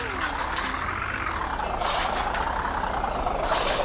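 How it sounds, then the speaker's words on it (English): A cartoon bus drives over a hill, a steady engine rumble with rising and falling pitch and faint hissing, moderately loud and continuous with no talking. "Oh look, here comes Bobby the bus over the hill"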